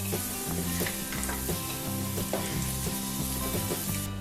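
Boiled eggs fry in hot ghee for Thalassery egg biryani, crackling in a dense, steady sizzle with faint stirring knocks, close up and without talk.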